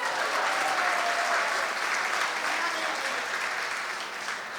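A school audience claps steadily at a poetry recital, a dense, even wash of applause from many hands that holds throughout and tapers slightly at the end.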